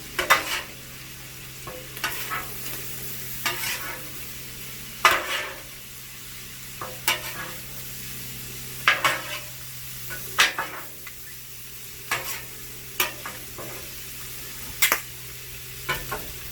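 Chopped cheesesteak meat with pepper and salt is stirred and scraped on a hot griddle, giving a steady sizzle broken by repeated sharp metal spatula clacks at an irregular rhythm, close up and with no talk.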